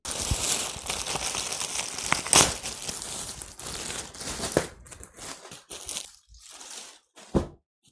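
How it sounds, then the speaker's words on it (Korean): Plastic wrapping on a new blanket is torn and pulled open up close, with continuous crinkling and crunching that breaks into shorter rustling bursts and pauses toward the end. "자, 겉에 비닐을 뜯어봤는데요"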